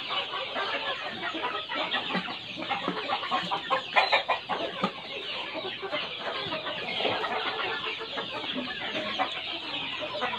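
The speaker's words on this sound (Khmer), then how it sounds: "មានមាន់ខ្មៅ" Chickens, including black ones, cluck steadily and close by at a farm set up for agricultural teaching, with dense overlapping calls and scattered sharper clucks.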